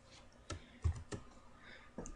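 Computer keyboard key presses while playing Minecraft, a few sharp, quiet clicks spaced irregularly, alone in a quiet room.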